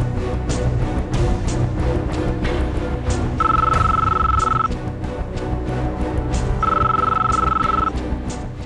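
A mobile phone rings indoors in a Telugu TV serial scene, two separate bursts of electronic ringtone over a busy background of music and room noise.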